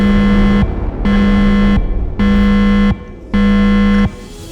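Alarm in the video game Lobotomy Corporation: four loud, steady buzzing tones, each lasting under a second, separated by short gaps, with no talking over them.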